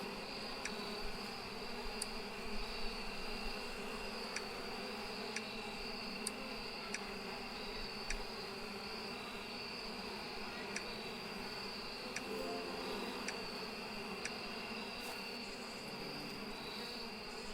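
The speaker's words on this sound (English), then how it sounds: "Still can't help with the grumpy bees." Bees buzzing in the video game APICO form a steady, continuous drone with a constant hum, and faint light ticks recur throughout. No voices are heard.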